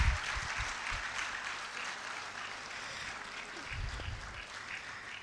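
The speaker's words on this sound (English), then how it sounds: "Let's clap for them." Audience clapping at an outdoor breast cancer awareness durbar, a broad steady wash of many hands applauding at moderate distance, with low rumbling thumps near the start and again toward the end.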